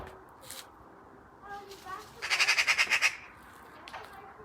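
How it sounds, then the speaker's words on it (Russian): A magpie lets out a rapid, close chattering squawk of about eight harsh pulses, preceded by a few shorter calls, with a person speaking briefly around it. "Ой, сорока."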